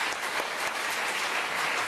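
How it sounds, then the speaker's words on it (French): A TV studio audience breaks into steady, dense applause on a French variety show set, a continuous wash of clapping close and loud for the whole stretch with no voices over it. "Il est là, vous pouvez l'applaudir."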